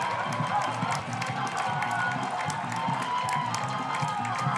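A sellout crowd at a Portland soccer season finale cheers and applauds steadily, a broad, even wash of clapping and voices throughout.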